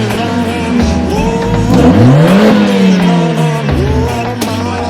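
A Mercedes-AMG A45 S engine revs hard in Race mode, pitch sweeping up and falling back through a loud, close, sustained roar with no voices over it.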